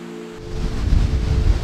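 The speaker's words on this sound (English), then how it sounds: "Swallow Falls. It's the tallest waterfall in Wales, at 42 metres high" Swallow Falls in Wales, the country's tallest waterfall at 42 metres, roars as a deep, rumbling wash of falling water that swells up after a brief quieter moment and stays loud.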